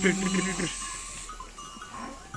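Sakız breed sheep on a farm bleat briefly near the start amid general livestock noise, with a faint bell-like tone and people talking close by.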